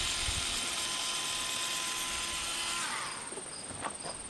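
Cordless battery-operated shears whir steadily while cutting fiberglass cloth for a small sailboat transom, a close motor hum that stops near the end and gives way to a few faint clicks.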